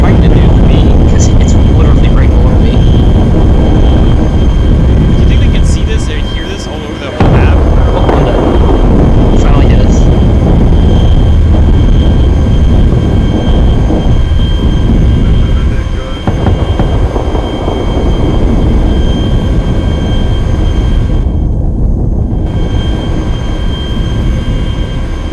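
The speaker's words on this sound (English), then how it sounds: "chopper still running?" Helicopter engine and rotor drone from the video game Arma 2, a loud continuous roar filling the whole stretch with a brief dip near the middle, while players talk over it.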